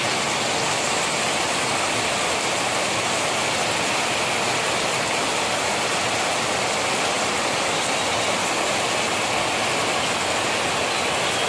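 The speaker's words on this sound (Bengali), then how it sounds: "দেখো কী পরিমাণ বৃষ্টি" Heavy rain pours down in Malaysia, flooding the street, a steady dense hiss of water that holds evenly throughout with no voices.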